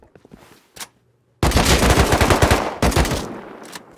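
Gunfire in the survival game Rust, starting with a few scattered shots, then a loud rapid burst of automatic fire lasting over a second, a short pause and another burst, close and dominant with no talk.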